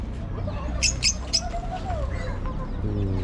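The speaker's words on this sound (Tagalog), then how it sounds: "may ibon din pala dito. Ang dami oh." Chickens cluck in a few short, bright bursts close by, over a steady low rumble of background noise.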